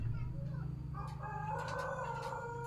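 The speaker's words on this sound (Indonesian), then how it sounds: "Ternyata di sini ada suara ayam" A rooster crows in the background, a drawn-out tonal call rising and holding, over a steady low hum.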